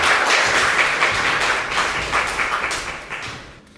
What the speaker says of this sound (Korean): 저희 박수로 환영을 하면 좋겠습니다